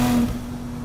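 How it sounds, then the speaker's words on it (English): A turbocharged Porsche 911 of the 996 generation, built to about 1000 whp and running open wastegates, roars loud and close in a brief, steady engine drone that eases slightly partway through, with no voices. "open wastegates on a turbocharged 911 has got to be one of the most insane experiences I've ever had"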